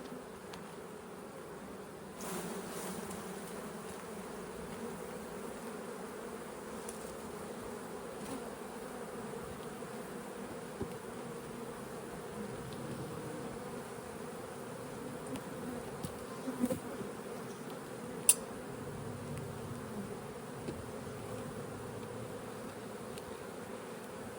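Honeybees drone around an open, queenless beehive as frames are handled, a low, steady buzz with a few faint knocks and clicks close by, and no one speaking.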